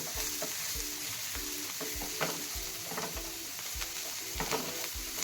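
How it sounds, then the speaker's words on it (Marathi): Chilli and coriander stirred in a frying pan for egg bhurji, a soft steady sizzle under rhythmic spoon scrapes repeating about once a second. "थोडीशी कोथिंबीर, हे हलवून घ्यायचं आहे एकदा।"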